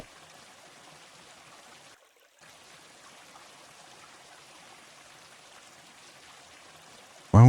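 Water flows steadily in the Minetest video game as a soft, even trickling and streaming hiss. It drops out briefly and ends with a sudden loud burst.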